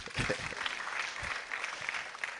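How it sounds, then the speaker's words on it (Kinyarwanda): A church congregation claps together in a brief burst of applause, a dense, fairly close patter of hands lasting a couple of seconds with some voices mixed in. "Tumukomera amashyi Gatete."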